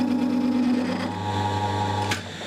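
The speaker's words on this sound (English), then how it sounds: "have to slow the lathe down" A metal lathe cuts a groove for 3mm O-rings, producing a steady mechanical hum with a tonal whine and a sharp click near the end, running close and alone without speech.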